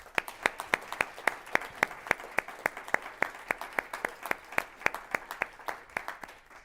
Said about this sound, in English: we'll have a round of applause for both of our candidates